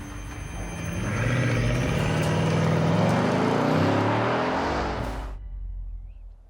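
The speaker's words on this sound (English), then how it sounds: "There you have the turbocharger sound." A Bugatti Divo's 8-litre W16 engine and turbocharger pass with a broad, steady roar that swells and holds for several seconds, then cuts off sharply, leaving a softer fading tail.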